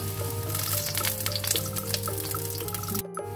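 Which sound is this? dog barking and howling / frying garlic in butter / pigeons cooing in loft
frying garlic in butter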